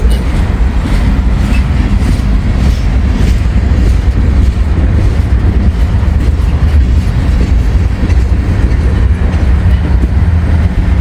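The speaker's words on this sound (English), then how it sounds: "This is quite the long train here, and it is moving at that pace" A long freight train hauling refrigerated box cars rolls past close by, a loud continuous rumble with steady rhythmic clatter of wheels over rail joints throughout.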